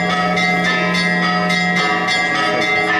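A hand-rung school bell at a military sports lyceum's last-bell ceremony in Kropyvnytskyi rings rapidly and continuously, a bright clanging with sustained metallic overtones and no voices.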